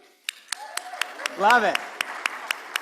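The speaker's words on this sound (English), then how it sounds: "We should be clapping for as much as we can clap for." Sparse, fairly regular hand claps from an audience at a caregiving summit on the Older Americans Act, sharp and distinct, with a voice speaking briefly over them.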